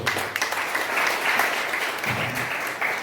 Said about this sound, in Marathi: टाळ्या वाजवायला बिलकुल हरकत नाही आहे टाळ्यांना काही पैसे लागत नाही